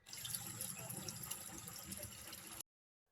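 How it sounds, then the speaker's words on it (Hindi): Babbling water at the source of the Betwa river near Jhiri village, Raisen district, runs in a steady broadband rush with a low gurgling churn, close and continuous, then cuts off abruptly. "नदी का स्वरूप इस रूप में है, जो कि ये कलकल करते हुए झरने की तरह दिखाई दे रही है"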